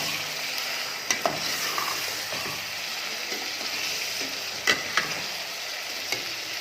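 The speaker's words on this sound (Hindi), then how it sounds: "अब मैं डालूंगी इसके अंदर अदरक लहसुन का पेस्ट। 1 चमचा है हमारे पास किसी भी अदरक और 1 चमचा है हमारे पास लहसुन। ये डाल के बहुत अच्छी तरह से इसको भूनना है।" Ginger and garlic paste frying with mutton in a pot, a constant close sizzle broken by scattered sharp spoon scrapes and clinks against the pan.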